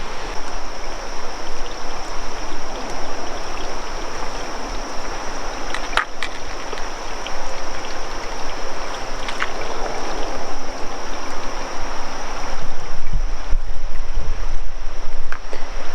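Steady rushing water flows continuously, loud and close, with a broadband wash and some wind buffeting the microphone; no voices.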